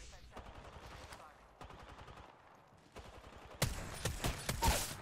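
Gunfire from a 30-30 rifle in the video game Apex Legends: a few sharp, separate shots that grow louder toward the end over steady game background noise.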